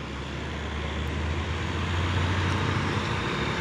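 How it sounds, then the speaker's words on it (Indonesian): A brown Fuso truck rumbles past on a road, a steady, moderately loud engine drone amid traffic noise. "Dan ini juga ada satu nih truk Fuso coklat ini"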